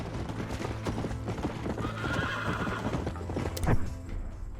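A horse in the video game Red Dead Redemption gallops in a steady rapid clip-clop of hooves, loud and close, with a sharp whinny breaking through near the end and no talking over it.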